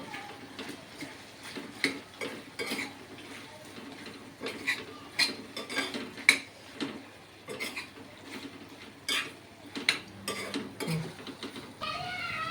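A spoon scraping and clinking around a pot of mutton and drumstick curry seasoned with salt and chilli powder, giving irregular close ticks and scrapes spread through the stretch with no talk.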